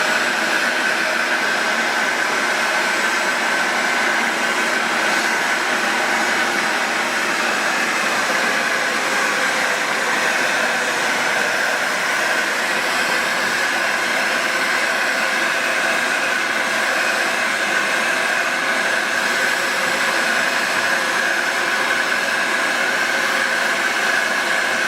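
A hot air tool blows steadily while heating 3-inch Schedule 40 PVC pipe, producing a constant, even whooshing drone that continues without a break and with no talking.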